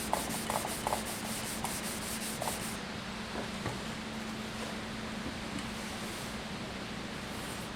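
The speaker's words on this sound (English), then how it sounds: "Sanding the surface to remove the scratches from the previous grit." Sandpaper of fine grit scrubbing a wooden stave drum shell, with quick rhythmic strokes at first that settle into a smooth continuous hiss, close and moderately quiet.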